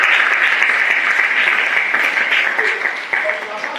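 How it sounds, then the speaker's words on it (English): Sustained applause from an audience at a speech about locally fabricated chairs, a dense wash of many hands clapping steadily, loud and close, easing slightly toward the end. "Please clap for yourself"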